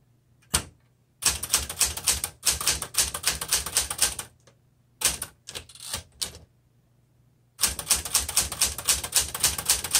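Someone types on a red 1960s Smith Corona Classic 12 typewriter, with close, crisp bursts of rapid key strikes separated by short silences and a low steady hum underneath.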